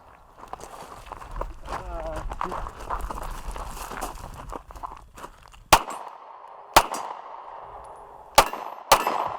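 Pistol shots from a Canik TP9 Elite SC striking a steel target, four sharp metallic impacts spaced through the clip after a stretch of footsteps and shuffling, with people talking in the background.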